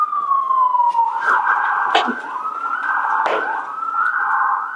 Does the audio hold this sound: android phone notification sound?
no